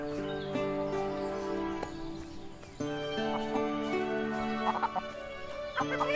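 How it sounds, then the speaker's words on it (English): Chickens in the Everdream Valley farming game cluck in repeated, looping calls over a tonal music bed, near and moderately loud, with no speech. "Chicken."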